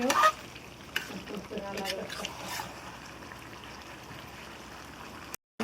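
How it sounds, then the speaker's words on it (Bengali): Taro and beef are stir-fried in a pan, making a faint sizzle and a few scraping stirs over quiet kitchen background, with brief voice sounds early on. "কচু দিয়ে মাংসটা ভালো করে কষিয়ে নিব"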